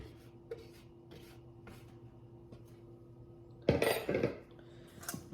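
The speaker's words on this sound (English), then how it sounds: "I'm gonna scrape this down off the side a little bit" A spatula scrapes pumpkin spice cheesecake mixture off the side of a mixing bowl. Soft, sparse scrapes give way to a few louder, rougher scraping strokes near the end, with no voices.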